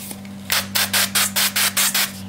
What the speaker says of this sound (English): I'm going to spray uh, with some olive oil.